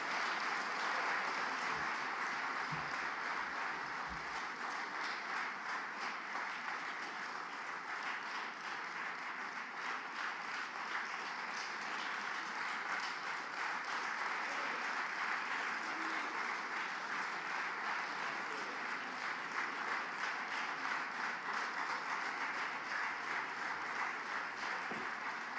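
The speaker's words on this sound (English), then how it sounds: "I would like us to give a loud round of applause to Honorable Sheikh Kavi" An assembly audience at a Biafra independence declaration gives a long round of applause, dense, even clapping that holds steady at a moderate, somewhat distant level for over twenty seconds.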